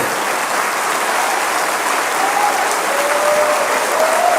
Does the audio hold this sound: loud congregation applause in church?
yes